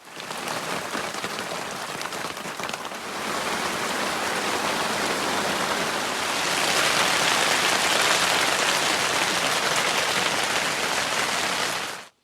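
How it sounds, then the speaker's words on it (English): Heavy rain with light hail pelts a tent at a Colorado campsite, a dense, loud, unbroken hiss that swells stronger midway before cutting off. "Yeah, I'm getting soaked. It's even hailing a little bit."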